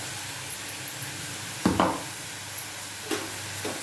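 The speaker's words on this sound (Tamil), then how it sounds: "நல்லா வதக்கணும்." Cluster beans and grated coconut being sautéed in a pan: a few soft scraping stir strokes and light clinks over a faint steady sizzle, close and fairly quiet, with no talking.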